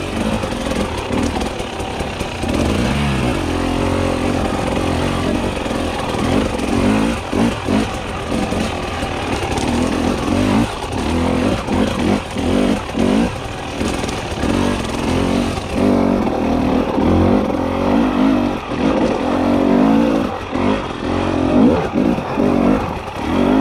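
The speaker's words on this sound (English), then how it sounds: "Don't look to me for a good example on how to ride a two-stroke." Two-stroke dirt bike ridden through woods, engine buzzing and revving continuously up and down at close range with no letup, sharp throttle blips and rough surging throughout.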